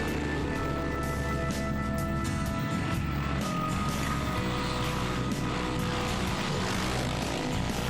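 Dense, loud engine roar at the Dakar 2007 stage 1 start near Lisbon, Portugal, as rally vehicles fire up and pull away two by two, several engines droning and blending together nonstop with shifting tones.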